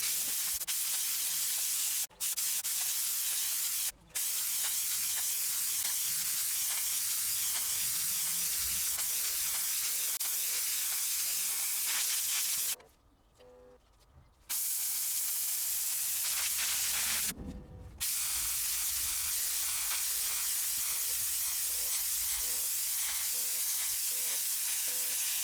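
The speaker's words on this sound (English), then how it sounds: "we'll use the steam cleaner on both the evaporator and the heat exchanger" A steam cleaner hisses loudly on the evaporator and heat exchanger of a 20-year-old BMW 7-Series, a long continuous spray that cuts out briefly twice early on and stops for a longer gap midway before resuming.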